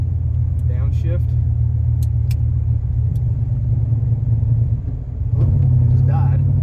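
Turbocharged V8 police car engine holding a steady low rumble after a downshift, dipping briefly near the end before swelling back with a rising rev, with someone talking over it.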